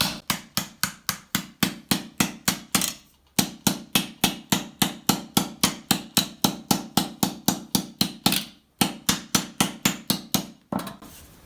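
Rapid, steady hammer blows dishing a metal armor plate for a pauldron, ringing and close, in quick runs of strikes separated by brief pauses.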